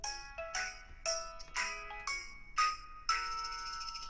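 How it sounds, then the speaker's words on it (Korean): A phone's outgoing call tone rings in a repeating melodic pattern of bright electronic chimes, each phrase starting sharply and fading, clear and close with no talking over it. "누가 지금 차범근 감독님한테 전화를 하라고 그랬냐?"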